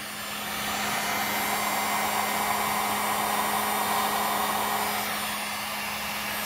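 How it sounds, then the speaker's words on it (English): A heat gun on its low setting blows steadily while warming the toe of a custom shoe. Its even, continuous whoosh holds nearby and fairly loud throughout. "I'm going to turn my heat gun on the low setting to start with"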